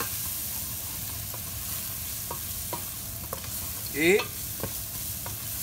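Curry powder and oregano stirred in a pan for a tamarind sauce: steady low sizzling punctuated by regular spoon taps and scrapes, with one louder scraping sweep near the end.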